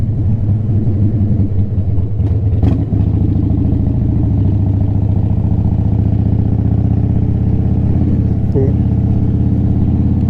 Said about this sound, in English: I can hear my exhaust, the sound of my exhaust reverberating off these stones